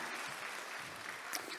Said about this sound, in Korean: 박수로 한번 감사함을 표현하겠습니다.